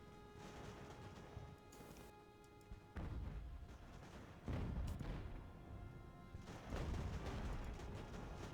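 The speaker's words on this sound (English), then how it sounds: "that ship is shooting all over this area here" Sailing-ship cannon fire in the Ultimate Admiral: Age of Sail game, a few heavy booms spaced a couple of seconds apart, each rolling out into a rumbling tail over a steady background.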